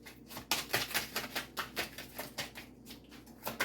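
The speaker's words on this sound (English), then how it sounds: "Two more shuffles and I'll pull from the top." Crisp, rapid riffling of tarot cards being shuffled, repeated in quick bursts, close up with a papery flutter, no voices.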